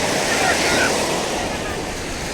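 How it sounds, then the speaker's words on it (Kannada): Strong sea surf at Panambur beach in Mangalore, waves higher than usual, forms a continuous broadband roar with wind buffeting the microphone, heard alone without voices over this short stretch. "ಅಲೆಗಳು ತುಂಬ ಜೋರಾಗೇ ಇದ್ದಾವೆ."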